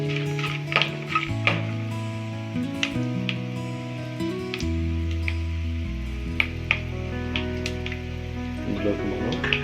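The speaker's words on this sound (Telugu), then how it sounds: "మీడియం ఫ్లేమ్లో పెట్టుకొని చక్కగా మనం ఇట్లా వేయించుకోవాలి." Pan frying on a medium flame while cooking chicken dum biryani, a light crackling, spitting sizzle with scattered pops over a steady background tone, at moderate loudness and without talk.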